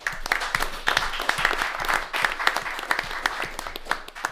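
A small group at a city council meeting claps for a staff member's birthday; brisk, uneven hand claps from a modest number of people, fairly close, with no clear speech.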